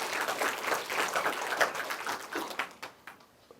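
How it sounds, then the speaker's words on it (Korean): A school lecture audience of art college applicants claps, producing a dense patter of applause that stays moderately loud and then thins out and fades toward the end. "자, 여러분들 스스로를 위해서 같이 박수 한번 치고 다시 한번 시작합시다."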